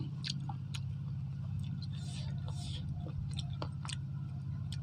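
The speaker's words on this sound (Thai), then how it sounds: "มากินกันแซ่บๆพี่น้อง" Someone chews spicy Thai-Lao papaya salad with a wet, soft crunch, close to the mic, over a constant low hum, with a few faint background murmurs.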